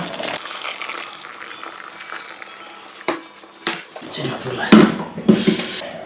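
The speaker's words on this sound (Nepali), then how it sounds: "यसमा पानी अझै थपिदिउँ, जति सक्दो पानी हालिन्छ" Water poured into a pot of chicken bones, garlic, cumin, coriander and red chillies for soup stock, about 3 to 3.5 litres, a gushing pour followed by clanks of the pot and utensils, close and fairly loud.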